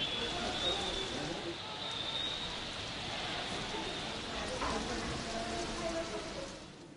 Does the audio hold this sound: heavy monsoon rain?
yes